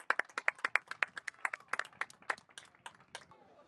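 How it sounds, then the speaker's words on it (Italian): Sharp, fairly close hand claps from a small group after a goal at an indoor futsal match, irregular and fast, thinning out toward the end, with no voices. "e applausi di tutti"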